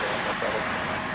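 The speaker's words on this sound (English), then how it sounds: "This Delta aircraft" Delta airliner at Chicago O'Hare airport producing a steady, fairly loud broadband engine roar that holds evenly throughout, with no pauses.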